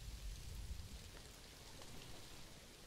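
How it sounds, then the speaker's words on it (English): Rain falls in the zoo-building video game Planet Zoo, a soft, steady hiss of drops with a faint low rumble at the start, with no voices over it. "Just the rain and stuff."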